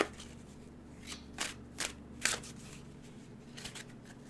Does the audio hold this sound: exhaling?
no